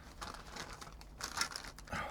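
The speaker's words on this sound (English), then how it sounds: "There's just so many plastic bags, but never mind." Plastic bags crinkling and rustling as they are handled while unpacking a 1/25 scale AMT model kit of a '58 Plymouth Fury, soft and close with irregular bursts of crackle, no talk.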